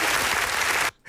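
A canned crowd-laughter cue played on a talk show: a dense, steady wash of many voices laughing and clapping at close range for nearly a second, then cutting off abruptly with a brief faint tail.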